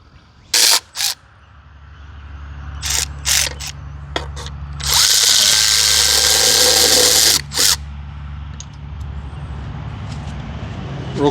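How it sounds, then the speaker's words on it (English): A power tool loosens valve cover bolts on a 390 engine, with short sharp bursts and one longer steady whir of about two seconds over a constant low hum, close and loud. "while I'm pulling these valve cover bolts out"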